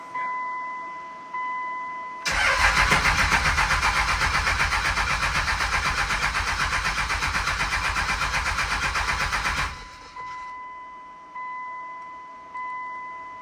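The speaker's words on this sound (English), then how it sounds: "We're just gonna crank like 10 seconds at a time so I don't drain the battery or overheat it." A 2nd Gen Cummins diesel engine cranking on its first startup: the starter churns rhythmically for about seven seconds, loud and close, with quieter chimes before and after.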